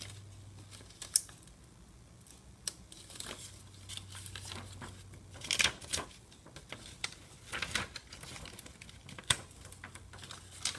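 A ScanNCut machine cutting out shapes, giving a run of quiet, irregular ticks, taps and clicks with a low motor hum that comes and goes, close by with no voices.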